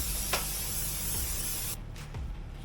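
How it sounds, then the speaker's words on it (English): A steady, close hiss of cooking oil spray onto a pan runs for a couple of seconds, then stops, followed by quieter rustling. "we're going to spray down the pan"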